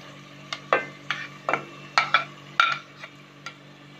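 A spoon stirs fried minced meat (qeema) with tomatoes for aloo qeema in a pan, giving about ten distinct scraping clanks at an uneven pace over a low, steady hum.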